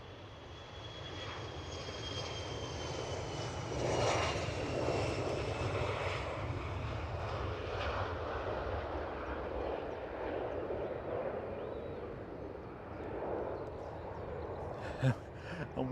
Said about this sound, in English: So plane on cam is off to Bergen.